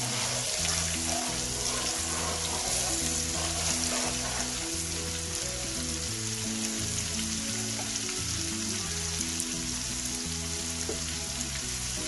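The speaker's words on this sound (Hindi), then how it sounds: "अदरक और लहसुन के पेस्ट को तकरीबन हम 3 से 4 मिनट तक भूनेंगे" Steady crackling sizzle of ginger garlic paste frying in hot oil, continuous and close, with occasional stirring scrapes and no voices.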